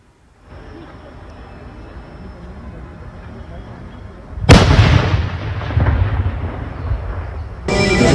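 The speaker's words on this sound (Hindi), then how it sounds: "तस्वीरों में देखा जा सकता है कि धमाका कितना तेज था" A steady hiss of background noise is broken by a sudden loud blast from a controlled IED detonation in Srinagar, Kashmir, that booms and rumbles, followed by a second sharp burst at the end.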